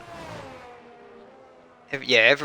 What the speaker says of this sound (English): car ahead of him just warming up his tyres